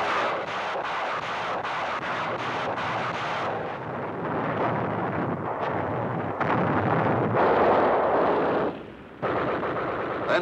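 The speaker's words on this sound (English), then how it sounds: "Our rocket launchers help soften them up." A WW2 rocket launcher barrage fires in a sustained, loud roar of rapid blasts and rumbling detonations, dense and continuous with a brief lull near the end.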